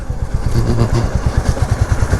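Royal Enfield-style Classic 350 motorcycle ridden on local roads, its thumping single-cylinder engine pulsing steadily and close throughout with some clatter, no talk.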